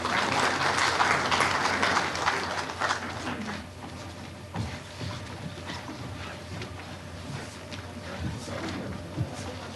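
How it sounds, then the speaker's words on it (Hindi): Audience applause welcoming a farmer onto the stage at an awards event with Vice President Jagdeep Dhankhar, a dense burst of clapping that is loud at first and then fades to scattered claps and hall noise. "तालियों के साथ इनका स्वागत करें।"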